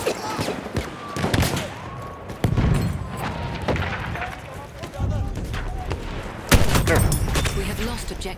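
Battlefield 1 combat at close range has rapid gunfire bursts and sharp booms that crack repeatedly over a busy battlefield din, with shouting voices mixed in throughout.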